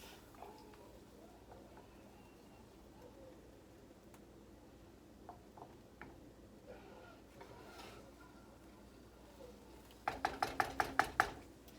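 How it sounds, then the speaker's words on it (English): A spoon stirs half and half into pumpkin soup in a pot: a quiet, low background for most of the stretch, then a quick run of six or seven sharp, close metallic clinks against the pot near the end. "So I'm going to go ahead and stir in the half and half."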